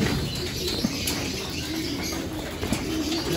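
Racing pigeons in a loft give soft, low coos amid a near, continuous rustle and several quick bursts of wing flapping, with faint chirps mixed in.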